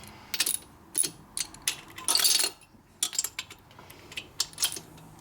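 Ratchet socket wrench tightening rocker box bolts on a 1961 Harley-Davidson XLCH Ironhead Sportster engine during a rebuild, in a series of short, sharp metallic clicks and clacks in irregular bursts, close up, with no talking.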